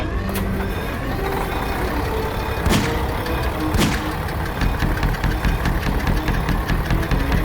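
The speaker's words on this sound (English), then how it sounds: "My engine's making funny sounds" Truck engine running rough for a Rodimus Prime stop-motion scene, a loud steady rumble with irregular knocking and sharp clanks breaking through.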